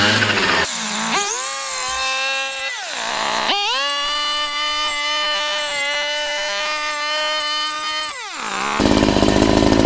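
A string trimmer fitted with a brush blade cuts into branches, its engine revving up to a loud, steady high whine, dropping briefly, then surging again for several seconds before cutting off.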